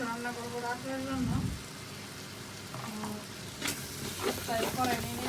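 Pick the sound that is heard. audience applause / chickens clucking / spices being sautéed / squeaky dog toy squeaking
spices being sautéed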